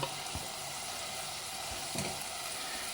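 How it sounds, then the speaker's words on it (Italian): Rabbit meat dropped into a hot soffritto, raising a steady, loud frying sizzle throughout with a couple of brief bursts of spattering as pieces hit the pan. "alzo un pochino la fiamma e metto giù la carne di coniglio"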